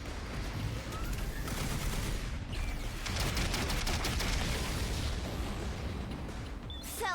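Missiles firing in the game The Hundred Line: Last Defense Academy, a dense volley of booming launches and blasts piling up loudly, with a brief crackling burst toward the end.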